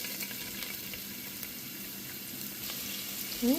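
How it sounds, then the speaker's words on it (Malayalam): Onion and ginger sautéing in hot oil in a pan while cooking a chickpea curry, a steady soft sizzle throughout with a brief clatter near the end, no talking. "ഓയിൽ ചൂടായിട്ട് ഉള്ളിയെല്ലാം ഇട്ട് നമുക്ക് വഴറ്റിയെടുക്കണം"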